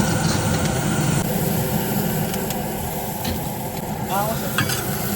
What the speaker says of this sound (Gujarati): આમાં હું નાખ્યું અત્યારે મરચાં ને ડુંગળી ત્યારબાદ નાખી છે કોબી